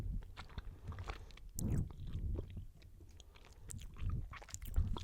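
Someone eating Ikea snacks up close, with soft, irregular chewing and biting sounds at an intimate whisper level over about five seconds, brief louder crunches scattered among quiet stretches.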